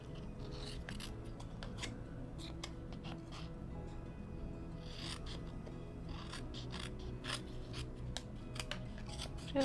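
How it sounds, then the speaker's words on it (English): Scissors snipping excess scrap paper, a quiet run of repeated crisp cuts and rustles, close but faint, with no talk. "I just roughly take off the excess. Doesn't have to be perfect, but just cut it off fairly easy."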